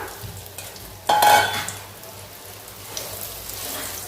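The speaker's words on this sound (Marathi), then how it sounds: "मीडियम फ्लेमवरती ही बटाटे आपण शालो फ्राय करून घेऊया" Masala-coated potatoes shallow-frying in oil over a medium flame for dhaba-style dum aloo, a steady close sizzle with a sudden louder burst of spitting and stirring early on.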